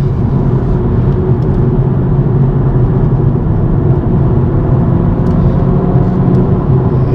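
A BMW M135i engine drones as the car accelerates along a road in northern Scotland, a loud, steady low rumble with constant road and wind noise throughout.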